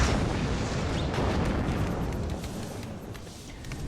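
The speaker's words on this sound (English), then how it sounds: "Shooting their big rail guns, or whatever you want to call them" Heavy long-range guns firing in the strategy game WARNO, a dense, continuous rumble of booms and blasts layered over one another, loud and sustained before easing slightly toward the end.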